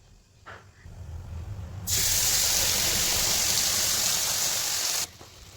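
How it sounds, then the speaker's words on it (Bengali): Mustard paste, with nigella seeds already in, drops into hot oil left over from frying fish and bursts into a loud, close, hissing sizzle that runs for about three seconds before cutting off abruptly. "এখন দিয়ে দেবো পেস্ট করে রাখা সর্ষে পেস্ট"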